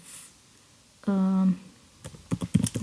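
Keys clatter in a quick burst of typing on a computer keyboard while code is entered in Visual Studio Code. A short voiced tone sounds just before the close, rapid clicks that follow.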